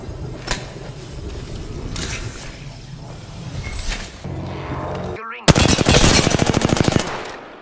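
Gunfire in the battle royale shooter Apex Legends: scattered loud shots early, then a sustained rapid automatic burst near the end, sharp and close, with brief game voice lines in the mix.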